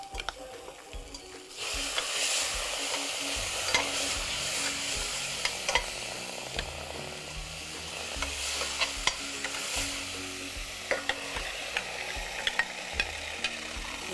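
Garlic, ginger and tomato fry in a pan, giving a close, steady sizzle that starts after a quiet moment, with repeated scraping and clicking from stirring throughout.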